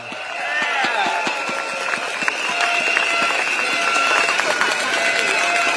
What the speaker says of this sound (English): let's give a round of applause for Stella